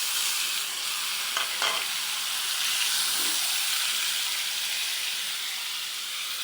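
Meat added to browned fried onions sizzles loudly in the pan, a continuous close hiss with a few brief stirring scrapes early on.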